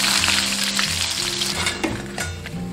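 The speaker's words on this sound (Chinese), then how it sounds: "然后把油温升高，再复炸一遍，等一下表皮才会脆。" Pieces of stingray fish deep-frying a second time in very hot oil, a loud, close, continuous sizzle and crackle with occasional stirring clinks.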